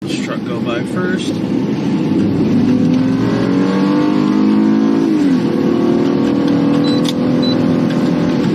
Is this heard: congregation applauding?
no